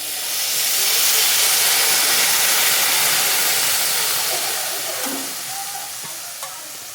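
Water poured into a pan of hot spiced egg mixture seasoned with coriander powder and turmeric for egg bhujia, giving a loud, steady hiss and sizzle that slowly fades over several seconds, with faint clinks near the end.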